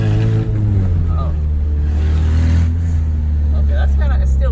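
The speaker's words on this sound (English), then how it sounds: "that loud exhaust is so fun" A K20-swapped Honda Civic EK sedan with a cable-shift manual gearbox and loud exhaust drones steadily while driving, a deep constant rumble with people talking over it.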